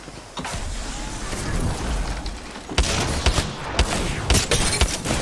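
Rampage light machine gun in Apex Legends, heard through mechanical clicks and clanks of a reload followed by a burst of loud, irregular shots near the listener; speech is almost absent.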